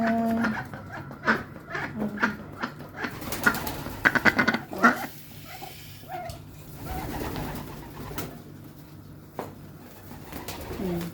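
Ducks crowd and scramble for feed tipped from a bucket, with quacks and calls rising in bursts over steady shuffling and splashing activity, nearby and moderately loud.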